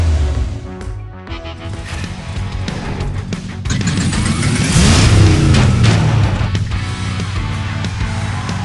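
A Hot Wheels toy car launches and revs in the Hot Wheels Unlimited mobile game, a loud engine roar rising in pitch and holding strong, game music underneath.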